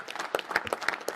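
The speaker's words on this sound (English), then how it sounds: "Give a round of applause to the Department of Energy." A meeting audience at the National Space Council applauds, a short burst of fairly faint, scattered claps spread across a brief moment with no voices over it.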